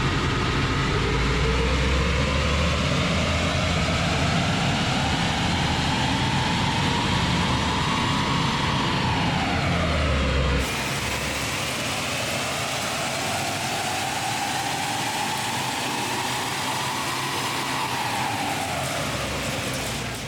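Mitsubishi Triton ute engine running on a dyno, a loud, steady roar that sweeps up in pitch through a pull and then drops as it winds down.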